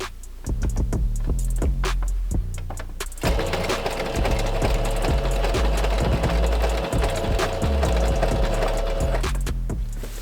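A home sewing machine stitches fabric for a Charlie demon cosplay. Slow separate needle clicks come first, then the motor whirs steadily for about six seconds, close and loud, before it slows to a stop.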